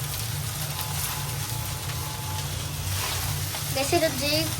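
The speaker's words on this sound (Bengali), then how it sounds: "তো আম্মু এগুলো এখন নেড়ে চেড়ে নিচ্ছে যাতে এগুলো সবগুলো একসাথে মিশে যায়।" Ingredients being stirred and fried in a pan, giving a soft, steady sizzle throughout with a brief scrape of stirring near the end, faint and close.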